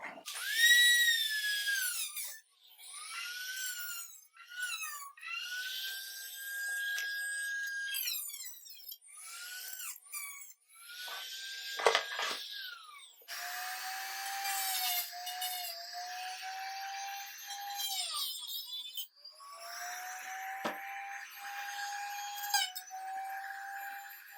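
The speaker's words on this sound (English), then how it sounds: "take the burring tool and I'm going to clean up the plastic" A Dremel rotary burring tool grinds away plastic on a Stihl MS310 chainsaw part, whining in repeated high-pitched bursts that rise and fall in pitch as it bites, close and alone.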